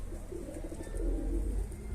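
A pigeon coos in soft repeated phrases, close and fairly quiet over a low background hum.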